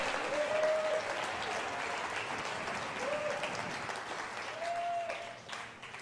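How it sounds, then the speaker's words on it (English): Applause from a church congregation during a sermon, a broad, steady wash of clapping that fills the whole clip at moderate level, with a few brief tonal notes surfacing through it. "Everybody clap, thank God."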